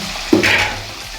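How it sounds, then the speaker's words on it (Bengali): Potatoes fry in salted oil with a short, close sizzle that rises suddenly and then eases off within about a second. "এই আলুগুলো একদম সেদ্ধ হওয়ার মতো লাল লাল করে ভেজে নেবো"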